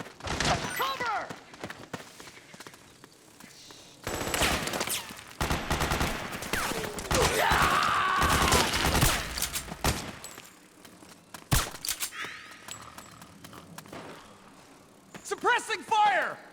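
Gunfire in the video game Metal Gear Solid 4, with bursts of automatic fire and shots crackling through a busy battle mix while voices shout over it.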